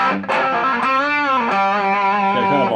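An electric guitar runs through a Pro Co RAT distortion pedal with the filter set at the middle, giving a honky, mid-heavy tone; a few sustained distorted notes and bends ring out loud and close with no talking.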